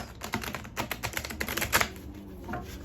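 A deck of tarot cards being shuffled close by, a quick run of soft riffling flicks and taps with no voices.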